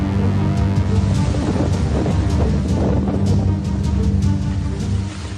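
Heavy wind roars continuously with a dense wash of rain during Cyclone Biparjoy in Gujarat, a loud, unbroken storm noise close to the microphone.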